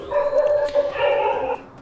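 Dogs bark in a game's synthesized sound effects, a short run of tonal barks and yips that repeat steadily at close range with no talk over them.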